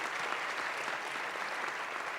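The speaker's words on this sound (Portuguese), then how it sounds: "A eles também a nossa salva de palmas e nossos parabéns." Audience applause at a seminar event, a dense, even roar of clapping from a large crowd, sustained at steady volume throughout with no voices over it.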